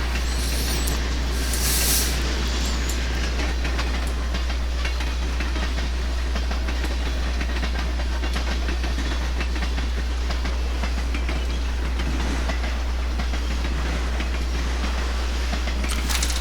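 A train rolls past a busy railfan spot, a continuous loud rumble of rail cars with clattering wheels and a brief air-brake hiss, heard close with no talk.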